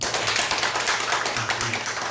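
A church congregation applauding, a brief spell of steady, fairly loud clapping from a room of people, with no talk.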